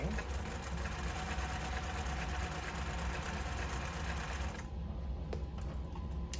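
A zigzag sewing machine runs a wide stitch at long stitch length with a fast, steady mechanical whirr and rhythmic clatter close by, then drops to a quieter hum near the end.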